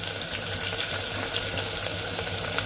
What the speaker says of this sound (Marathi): तेल आपलं हे चांगलं तापलेलं आहे, त्याच्यामध्ये मी आता कांदा टाकणार।